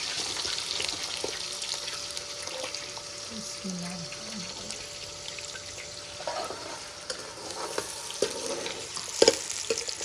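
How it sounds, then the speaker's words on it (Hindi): Chopped onions frying in hot oil in a pan for village-style chana chaat give off a steady, moderately loud sizzle, with occasional stirring clatters and clinks near the end. "आयल हमारा गर्म हो गया। अब मैं अपना प्याज इसमें ऐड करने लगी।"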